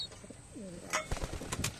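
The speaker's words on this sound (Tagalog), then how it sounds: "Yan yung mga ibon natin." Soft, low cooing from pigeons being vaccinated, fairly close, with a few light rustles and clicks between the calls.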